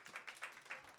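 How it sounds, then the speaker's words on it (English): Audience applause at a women authors' reading event, a brief burst of scattered clapping in a room, moderately faint and without voices. "So let's give a round of applause for Julia Moore, please."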